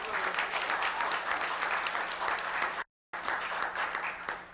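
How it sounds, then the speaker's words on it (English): Applause from an audience at a state board meeting, a steady wash of clapping at moderate volume that breaks off briefly midway and then resumes. "I think she deserves a round of applause"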